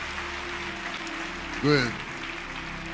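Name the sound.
church congregation applause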